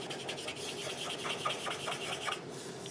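Chisel tip of a marker rubbing back and forth across paper, a dry, close scratchy rasp in quick repeated strokes with no voice over it.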